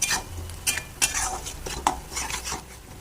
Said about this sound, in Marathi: तर आता वाटण देखील आपण मस्तपैकी भाजून घ्यायचं तेलामध्ये